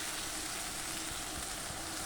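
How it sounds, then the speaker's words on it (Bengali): Spices fry in oil over a low gas flame for a Bengali koi fish curry, giving a steady, even sizzle that fills the clip without a break. "এবারে গ্যাসটাকে একদম লো ফ্লেমে দেবো, দিয়ে 10 মিনিট ধরে আমি আস্তে আস্তে এটা ভাজতে থাকবো"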